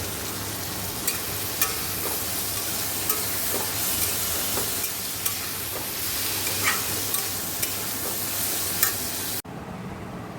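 Sliced bitter gourd fries in a pan in a home kitchen, a steady loud sizzle and hiss with occasional clicks from stirring, then it cuts off abruptly near the end.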